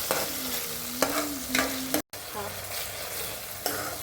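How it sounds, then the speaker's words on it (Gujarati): Green garlic and chopped dry onion fry in a pan with a constant crackling sizzle, punctuated by spoon-stirring scrapes and a brief cut-out midway. "એક સૂકી ડુંગળી સમારીને નાખી દેવાની. અને હવે 2 મિનિટમાં ડુંગળી ચડી જશે આપણી."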